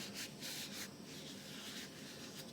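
Finish rubbed by hand into the grain of a wooden screwdriver handle turned from round stock, a close continuous scuffing rub moving back and forth in uneven strokes, with no talking.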